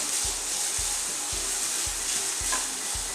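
Grated carrot sautéing in a pan for carrot halwa: a steady, close sizzle with soft rhythmic scraping strokes about twice a second as the shreds are stirred, no voices.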